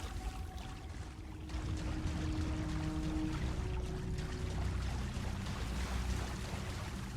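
A character in Starfield wades through water, giving a steady soft splashing and sloshing that is fairly quiet and continuous, with a faint tonal hum in the background.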